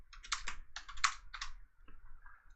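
Someone types on a computer keyboard nearby, with quick clusters of crisp keystrokes in uneven bursts, then lighter, sparser taps toward the end in an otherwise quiet room.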